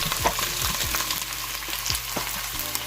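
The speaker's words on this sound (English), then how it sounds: "So to your hot oil, you're going to add in 1 cup of" Chopped onions hiss and crackle in hot oil, a dense continuous sizzle with quick ticking pops and light clinks throughout, close and fairly loud.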